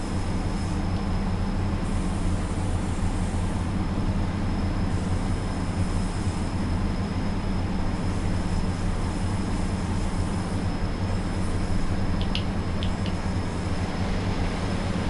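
Diesel train engine pulling under low throttle on the West Cornwall line in Train Sim World 4, a steady loud rumbling drone throughout with faint high tones briefly appearing near the end.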